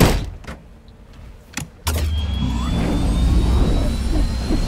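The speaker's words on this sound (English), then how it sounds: "Helicopter." A steady, loud engine roar with a rising whine swells in abruptly after a few soft thumps, a helicopter rotor droning up close in Resident Evil 6.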